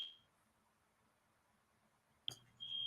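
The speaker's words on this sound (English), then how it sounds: "I tried to catch that alarm that time" An alarm gives brief high electronic beeps, one at the start and another near the end, over a quiet room tone before a louder steady tone sets in.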